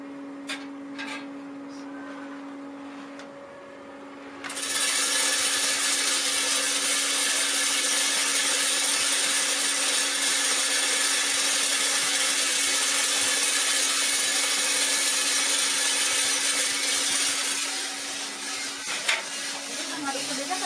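A semi-wash coffee processing machine runs in a village coffee factory in Arjasari, Bandung, starting with a hum and then switching to a loud, steady whirring rush that holds for about thirteen seconds before easing back down.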